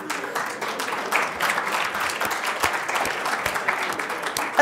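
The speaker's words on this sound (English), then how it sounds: "Thank you so much for applauding." Conference attendees applaud a volunteer at a security talk, a moderately loud, steady patter of many hands clapping together that holds for a few seconds.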